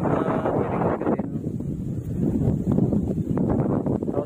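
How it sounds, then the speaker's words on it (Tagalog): Strong wind on Mt. Tatang buffets the microphone with a steady low roar and gusts, loud and continuous throughout. "lakas ng hangin dito."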